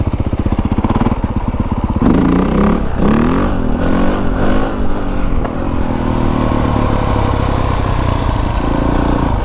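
A new dirt bike's engine runs close and loud, idling with a rough, slightly erratic burble and rising into sustained revs.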